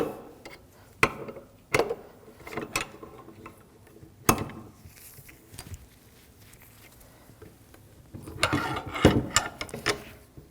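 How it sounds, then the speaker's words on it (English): A bearing press pulls the race off a rear wheel hub of a 2007-2013 BMW 328i, producing scattered sharp metallic clicks and ratcheting knocks with quieter creaks between them, ending in a denser cluster of clatter. "Now we're gonna use a press to remove the race from the hub."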